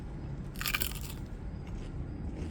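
A single sharp, wet crunch of a bite into a crisp cucumber, close to the ear, over a steady outdoor background hum.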